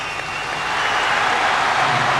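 A stadium crowd at a football skills competition applauds a routine, a dense, steady roar of clapping that swells slightly and carries on without pause.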